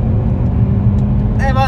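A Seat Ibiza 1.4 TSI 150 FR with a DSG7 gearbox, stage 1 remapped and running on E85 ethanol, pulls away hard from a standstill in sport mode. Its engine makes a loud, low, close rumble, and a voice cuts in at the end.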